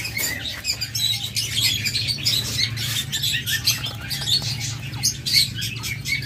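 A breeding aviary of lovebirds and budgerigars fills the air with rapid overlapping chirps, tweets and occasional squawks, busy and close, over a low steady hum.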